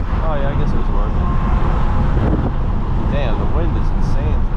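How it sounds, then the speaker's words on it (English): Heavy wind buffeting the microphone during a drive in an 800-horsepower BMW M6, a loud, rumbling low roar with road noise, while someone talks over it with brief tonal sounds. "the wind is insane today"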